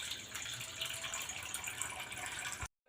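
Water from a tap pours steadily into a bowl in a kitchen, a continuous close splashing rush that cuts off abruptly near the end.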